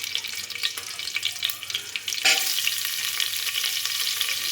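Chopped onion sautéing in a hot pan, a continuous close frying hiss with stirring scrapes; the sizzle briefly surges louder partway through and then holds steady.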